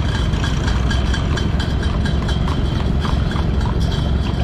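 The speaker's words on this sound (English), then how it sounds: "horse pulling a cart." A horse pulling a cart clip-clops along at a steam and engine show in Mt Hope, Ohio, its steady hoofbeats mixed with the loud low rumble of idling engines close by.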